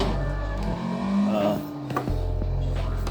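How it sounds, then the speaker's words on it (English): A car pulls an inertia drift: the engine note drops off abruptly, wavers while the car slides, then comes back strong and steady, with tire and road noise close by. "So this is called the inertia drift."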